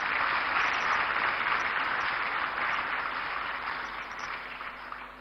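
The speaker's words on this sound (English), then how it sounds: "May you all give a round of applause for our President and our Vice." Audience applause at a national economic dialogue conference for the President and Vice President, a sustained, dense wash of clapping from a large hall that stays steady and slowly fades toward the end.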